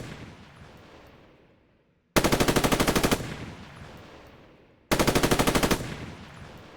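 Two long, loud bursts of rapid machine gun fire from a Roblox military simulation, each a dense even string of shots, separated by a fading tail of echo.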